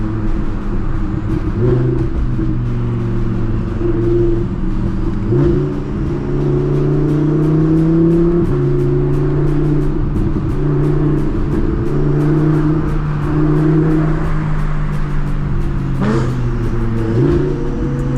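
A turbocharged supercar on a Miami street: its engine revs loud and close for the whole stretch, the pitch repeatedly climbing and dropping through gear changes with a constant roar.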